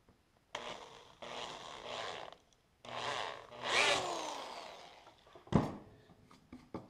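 A power drill bores a countersink hole in wood, running in several separate bursts of whirring a second or two each, with one sharp knock near the end. The bursts are close and fairly quiet, with no talk.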